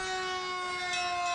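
Carmel Fire Engine 341 sounds its siren in a street parade, giving a loud, steady, harmonic wail that holds level without a break through the short moment.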